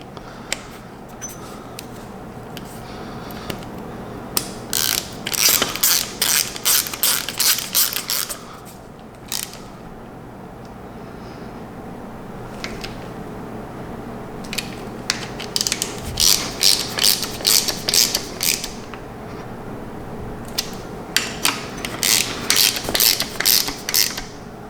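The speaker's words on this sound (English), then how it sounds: "Now I'm going to tighten these bolts." A hand ratchet tightens engine bolts on a Nissan SR20 engine build, its rapid clicking coming in several bursts of repeated strokes, close and clear, with short pauses and faint metallic handling between runs.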